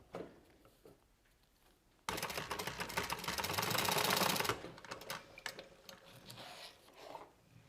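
A sewing machine with a cylinder arm stitches fabric pieces together along a zipper, a steady dense mechanical run of about two and a half seconds standing out loudly between quieter handling noises.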